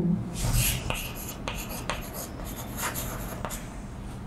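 Chalk scratches across a classroom blackboard during a chemistry lesson, a series of short scraping strokes and taps, fairly close, with faint room noise and no speech.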